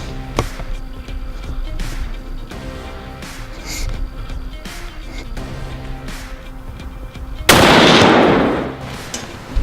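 A single loud rifle shot at a deer during a late-season hunt in Alabama, bursting out near the end after a long stretch of steady outdoor background noise.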